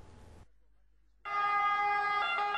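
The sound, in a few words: sirens of emergency vehicles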